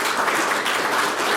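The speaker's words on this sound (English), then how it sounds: "They deserve that applause" Steady applause from an audience, dense and even throughout.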